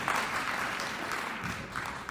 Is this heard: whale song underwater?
no